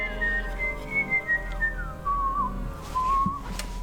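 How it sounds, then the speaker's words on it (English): A whistled melody played as a solo within a K-pop song, clear sustained tones gliding between pitches over a soft instrumental backing, with short phrases and pauses. "It's a whistling solo."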